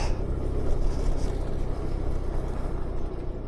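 A car rolls along a gravel dirt track, giving a steady broadband crunch and rumble of tyres on loose stones with low engine drone, continuous and fairly close throughout.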